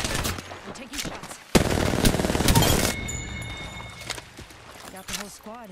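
Gunfire in the video game Apex Legends: rapid automatic bursts, a loud dense volley in the middle, then scattered shots and game effects, with someone talking over it.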